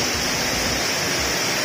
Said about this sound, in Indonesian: Saat ini saya lagi ada di salah satu air terjun yang ada di Lembah Harau